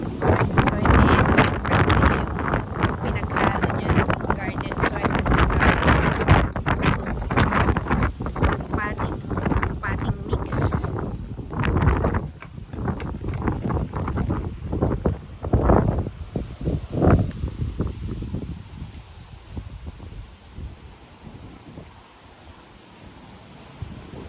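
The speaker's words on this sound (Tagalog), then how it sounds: "ang lakas ng hangin." Strong wind gusts outdoors on a windy day beside a potted plant, with roaring buffeting against the microphone and rustling leaves that ease and thin out as the gusts subside.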